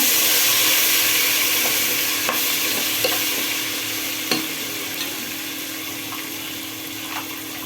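Green chili paste sizzles steadily in a hot pan, a dense bright frying hiss with occasional scrapes and taps of a spoon stirring it, close and continuous with no talk.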